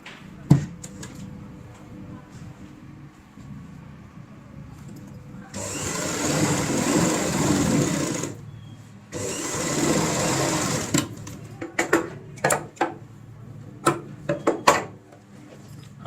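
A sewing machine stitches a tote bag zip in two steady bursts of a few seconds each, amid a low room hum and sharp clicks and taps as the fabric is moved.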